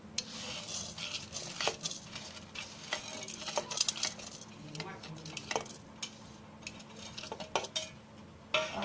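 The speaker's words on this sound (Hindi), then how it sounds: "फिर इसे हम हल्के भून लेते हैं" Spices dry-roasting in a hot kadhai, with frequent quick metal scrapes and clinks of a spatula over a faint sizzle, irregular and close, continuing for several seconds.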